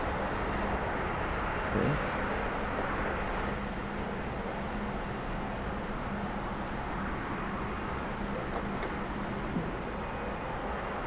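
A T-45 jet engine roars at a steady high throttle in the DCS flight simulator video game, a loud continuous broadband engine noise heard from inside the cockpit with only slight changes in pitch.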